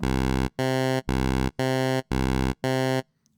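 Six evenly spaced bursts of a buzzy, bright tone from a Tom Oberheim SEM Pro synthesizer's pulse wave set to a narrow 10% width, each note about half a second with short gaps, loud and alone.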